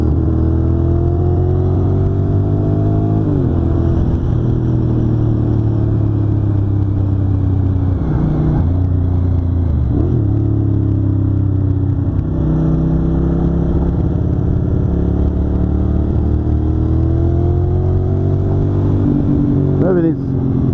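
A carbureted 1993 Ducati 750 Super Sport engine runs loud and close, a steady low rumble with brief blips of the throttle, while a person talks over it.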